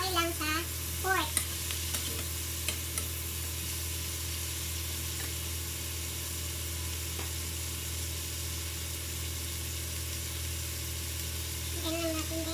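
Pork and vegetables being stir-fried with oil in a small wok, a steady close sizzle running throughout with occasional scrapes and clinks of the spatula tossing the food.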